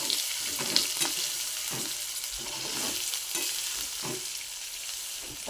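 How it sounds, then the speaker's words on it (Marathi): Onion and brinjal for stuffed brinjal fry in a pan, giving a continuous close sizzle broken by regular spatula scrapes about every half second, with no talking. "बराचसा कांदा पण भाजला आहे आणि वांगे पण फ्राय होतात आपले"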